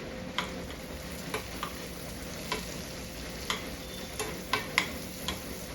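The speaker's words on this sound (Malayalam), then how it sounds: "ബട്ടർ മെൽറ്റായിട്ട് ഇനി അതിലേക്ക് അഞ്ച് ചെറിയ ഉള്ളി ചെറുതായി അരിഞ്ഞത് ഇട്ട് കൊടുക്കാം മൂത്ത് വരട്ടെ" Chopped shallots frying in melted butter, a soft steady sizzle with light spoon ticks against the pan at irregular intervals, close and fairly quiet without speech.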